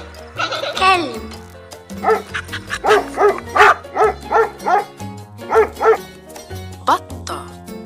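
A dog barks repeatedly at close range, a rapid string of sharp, evenly spaced woofs after a short whining yelp at the start.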